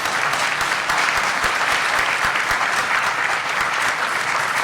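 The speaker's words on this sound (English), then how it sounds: "Can we give her a round of applause, please?" An audience applauds a U.S. congresswoman after a panel discussion, a dense, even roar of clapping at steady loudness throughout.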